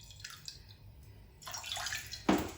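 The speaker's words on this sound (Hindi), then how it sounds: "अब इसमें डालेंगे हम पानी।" Water is poured into a frying pan, a soft splashing trickle that swells in the second half and ends with a brief louder splash, fairly quiet and close.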